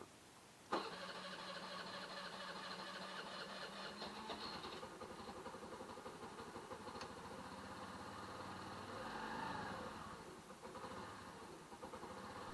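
A Honda Navi motorbike engine catches abruptly after choke and accelerator pump, then settles into a steady, close, mid-pitched idle with a slight rev swell near the end, no talk over it.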